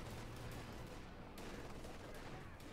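A .50 caliber machine gun fires in a Company of Heroes 2 battle, a faint, dense, continuous crackle of distant gunfire that sits low in the mix.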